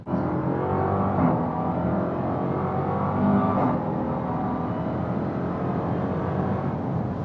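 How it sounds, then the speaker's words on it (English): A 710-horsepower 2026 Dodge Durango SRT Hellcat Jailbreak with a supercharged V8 accelerates hard: a loud, steady, close engine roar and supercharger whine, heard from inside the cabin with no talking. "I just step on the gas and by what you talking about? I can't hear you. I hear V8. I hear supercharger."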